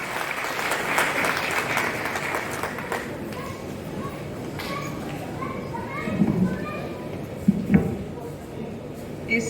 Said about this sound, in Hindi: जोरदार तालियों से मैडम का स्वागत करें आप।